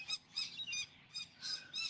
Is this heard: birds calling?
yes